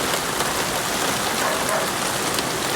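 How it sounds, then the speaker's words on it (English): Continuous rainfall in a garden, a dense steady patter of drops on nearby surfaces, fairly loud and unbroken, with no one speaking. "It is raining."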